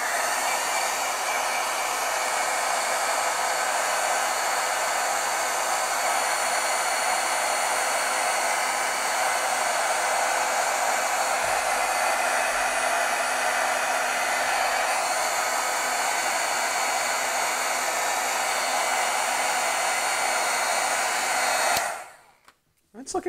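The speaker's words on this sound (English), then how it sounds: "Okay, so we're going to heat set this now." Heat tool blowing steadily to heat set red foil on a stamped card, a loud continuous whooshing drone that runs unbroken for over twenty seconds before cutting off abruptly.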